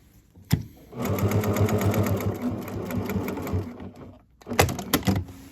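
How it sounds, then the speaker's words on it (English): Close sewing machine stitching around a welt pocket on fabric, a rapid steady run of needle strokes lasting a few seconds, preceded by a click and followed by a short second burst. "that's been stitched all the way around the outside, which helps trap our welt in there"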